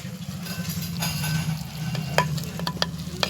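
A pan of greens cooking with added water is stirred, a low bubbling simmer under quick scraping strokes of the spoon near the end, close and fairly loud, with no talking.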